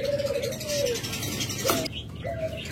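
A pair of cockatiels calling, with a few short whistled chirps and a quick trill over low background noise, fairly close.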